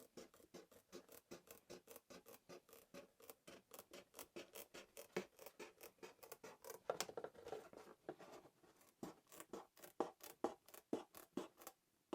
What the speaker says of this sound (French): on vient découper vraiment beaucoup plus doucement, beaucoup plus proprement le long des lignes de coupe